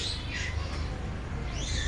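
Pigeons kept in a home loft in a village, including a red pigeon with young, calling in short repeated coos and chirps, fairly near, over a steady low background hum.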